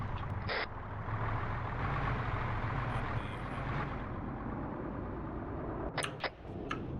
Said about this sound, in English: Vehicles incoming along the road.